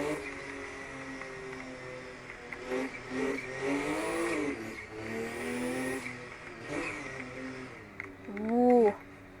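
A Porsche in the Assetto Corsa racing game on the Akina mountain course, its engine rising and falling through repeated revs, with a sharp high rev near the end.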